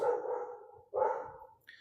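A dog gives two drawn-out barks in quick succession, fairly close, with nothing else around.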